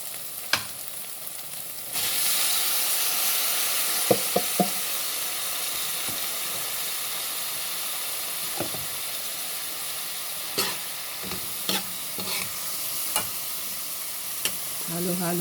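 Sliced bitter gourd (ampalaya) frying in a pan over sautéed aromatics, with a steady loud sizzle and hiss throughout and scattered scraping knocks from stirring, heard close with no talking.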